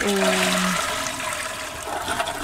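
Toilet flush in The Sims 4 video game, a loud rushing gurgle of water that fills the whole short stretch, with a brief tonal game sound at the start.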